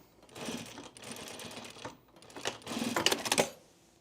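A sewing machine runs in short uneven bursts as it stitches a pre-quilted jacket. The whirring is close and rattly, with brief pauses between runs, and it grows busier toward the end.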